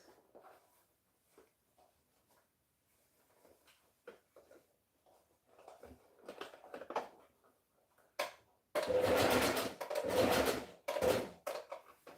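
Fabric is run through a sewing machine: scattered soft clicks and handling noises at first, then loud bursts of rapid mechanical stitching that stop and restart, close by.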